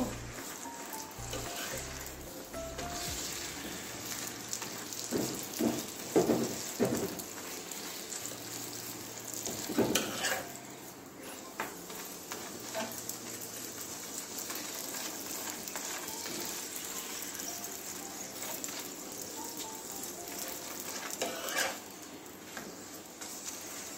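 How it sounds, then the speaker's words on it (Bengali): Egg soybean rolls frying in oil make a soft, continuous sizzle with faint crackles and occasional scraping or handling clicks, heard quietly throughout. "এবারে তেল দিয়ে ভেজে নেব।"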